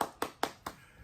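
A few scattered hand claps at a virtual arts gala, four distinct claps in a quick, even rhythm, faint and close, with nothing else around them.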